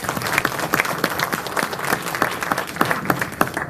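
Audience applause at a Future Energy Boston presentation event, a dense round of clapping from a room of people that holds steady and fairly loud for a few seconds with no talk over it.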